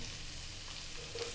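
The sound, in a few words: ginger and garlic frying in a pan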